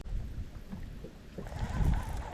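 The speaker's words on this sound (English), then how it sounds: "that wind's picking back up already" Wind blowing across a lake around a fishing boat, a low, rough rumble buffeting the microphone with gusts that swell toward the end, close and fairly faint.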